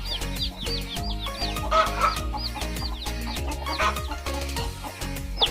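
Hens cluck loudly and repeatedly at close range in a poultry coop with young chicks about, overlapping calls forming a busy, constant rhythmic clucking with higher squawks mixed in.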